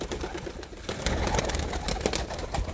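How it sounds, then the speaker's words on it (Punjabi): A large male pigeon coos softly and repeatedly at close range, the low murmuring calls running continuously with no one talking. "ਇਹ ਵੱਡਾ ਮੇਨ ਕਬੂਤਰ ਹੈ ਜੀ।"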